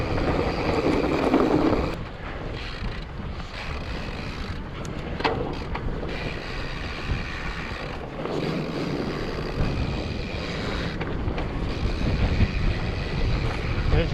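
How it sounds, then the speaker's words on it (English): Wind gusts across the microphone in Devil's Canyon in winter, a steady rushing roar that swells loudest at the start and again near the end, with no voices. "A little breezy."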